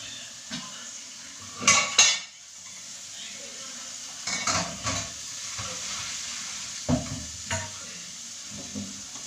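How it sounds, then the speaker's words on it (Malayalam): A spoon scrapes and clinks around a pan of chicken curry cooking with coconut milk, the contents hissing softly underneath. Several clatters come close together early on, then scattered lighter knocks follow at intervals. "നന്നായിട്ടൊന്ന് ഇളക്കി കൊടുക്കാം."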